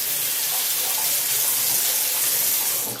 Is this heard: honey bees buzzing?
no